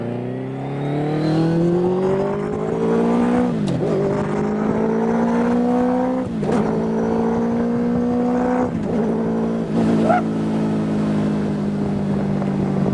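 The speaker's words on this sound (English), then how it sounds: "It's about time that we sit in the car and take it for a little spin" J10DAX kit car powered by a first-generation Suzuki Hayabusa engine driving and accelerating, a loud, close high-revving engine climbing through the gears with brief dips at each shift, no voices.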